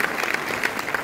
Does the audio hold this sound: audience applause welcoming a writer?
yes